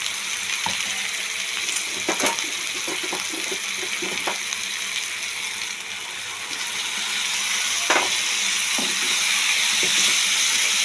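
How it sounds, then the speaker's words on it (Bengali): Water poured into spice masala frying in a pan for chana masala brings a steady, loud sizzling hiss, with scattered clinks and scraping from stirring and no voices. "তারপর দিয়ে একটু জল দিয়ে দিচ্ছি।"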